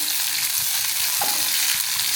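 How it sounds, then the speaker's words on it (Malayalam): Pieces of kinnathappam, a Thrissur-style rice cake, fry in a pan with a dense, steady sizzle and bubbling crackle close up, continuous throughout with no talking. "വാ, ഇത് വറുത്തിടാൻ പോവാ."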